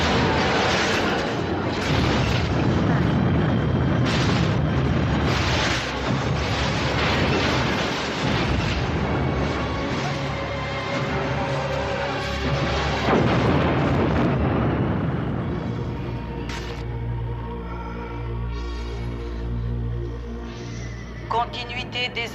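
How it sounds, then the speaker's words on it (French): A sci-fi film explosion effect: a long, loud roaring blast with crackling debris that fades into a lower rumble and ringing tones near the end, under occasional spoken lines. "Explosion imminente."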